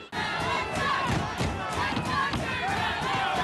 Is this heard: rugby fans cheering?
yes